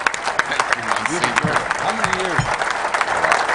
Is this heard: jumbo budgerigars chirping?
no